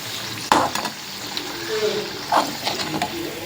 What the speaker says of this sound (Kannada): ಸೊ ಈ ಥರ ಹಿಂಗೆ ಎರಡೂ ಕಡೆಗೆ ಚಲೋ ಫ್ರೈ ಆಗಬೇಕು